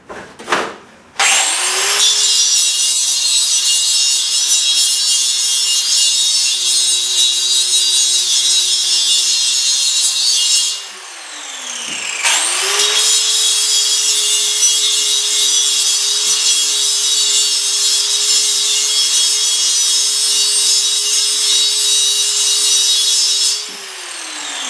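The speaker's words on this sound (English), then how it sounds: "now I'm going to take my angle grinder with a grinding wheel on it and just touch these little spot welds up a little bit" An angle grinder with a grinding wheel smoothing spot welds on a steel propane tank: two long, loud, harsh grinding passes, each spinning up with a whine, holding steady, then winding down.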